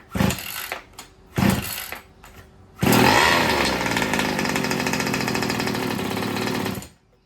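A newly fitted engine in a Baja kicks over with a few short bursts, then fires and runs at a loud, rough, steady buzz for about four seconds before cutting off, with no talking.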